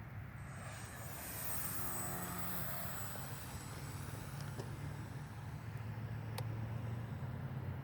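Radio-controlled Horizon Hobby Timber 1.5 model airplane on floats taking off from water, a steady faint electric motor whine and drone held at a distance throughout, without talk.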